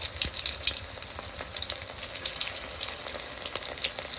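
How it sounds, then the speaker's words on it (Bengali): Fish roe cutlets sizzle steadily in very hot oil in a kadai, with a moderate crackling spatter and scattered pops throughout, and no voices. "কাটলেটগুলো ছেড়ে দিয়েছি তেলের মধ্যে এবার ভাজা হতে থাকবে কাটলেটগুলো"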